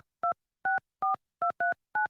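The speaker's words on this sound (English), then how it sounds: "Can you guys hear me dialing?" Telephone keypad dialing: six crisp two-tone DTMF beeps in an even, quick sequence, each short and clean against silence, close and clear with no talking.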